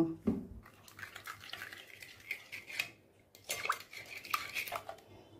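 A spoon scrapes and clinks inside a bowl while salt, baking soda and soda are mixed together, giving intermittent light metallic taps and scrapes in quick bursts with short pauses between.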